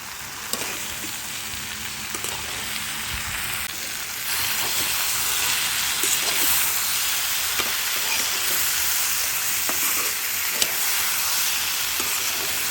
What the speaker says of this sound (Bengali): এখন বেগুনটাকে কিন্তু আমি খুব ভালো করে কষিয়ে নিব